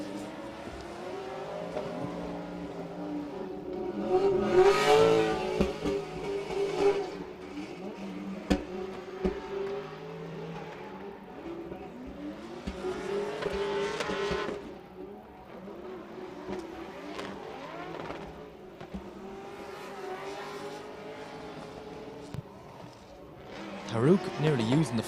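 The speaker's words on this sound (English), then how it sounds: "So we see Tarouk practically drifting out of the chicane." A drift car at an international drift championship in Oman swings through a chicane, its engine revving and surging in bursts before fading, while a commentator talks over it throughout.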